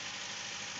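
A Humber Sceptre Mk3 car engine idles smoothly after a fuel pump swap, a steady even hum with no pauses and no voices, heard close.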